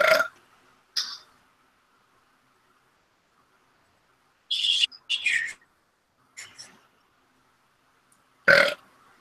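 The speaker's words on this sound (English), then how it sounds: "I got the burps right now. Hot and spicy burps." A man burps several times in short separate bursts, close and fairly loud, with stretches of quiet in between while he sits building plastic model kits.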